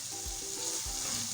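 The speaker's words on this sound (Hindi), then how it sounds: "हाई फ्लेम पे हम इसको भूनेंगे 1 से 2 मिनट" Beetroot stir-frying over a high flame makes a steady hiss and sizzle, with two low thumps as it is moved in the pan. The sound is brief and close, and no one speaks.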